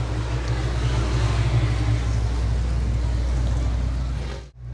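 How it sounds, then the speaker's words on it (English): Sport modified race cars accelerating at Raceway Park, a dense, steady engine roar from several cars held at high revs throughout, then cutting off briefly at the very end. "RPMs are going to come up, green flags are going to come out, and we're underway with your sport modifieds"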